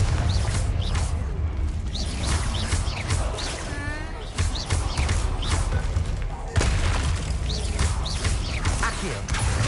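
The Confringo explosion spell in Hogwarts Legacy, with repeated blasts, crackling impacts and magical whooshes forming a dense, loud stream of combat effects.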